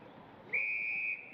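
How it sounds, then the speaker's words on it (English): A single sharp umpire's whistle blast cuts through a WAFL Colts Australian football match between East Perth and Claremont, lasting about half a second over faint ground noise. "There's a whistle in the back."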